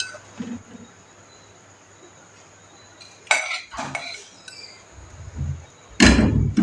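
A metal spoon spreads meat and masala in a biryani pot, with scattered clinks and scrapes against the pot that end in a louder clatter, close up and with no talking.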